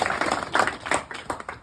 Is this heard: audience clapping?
yes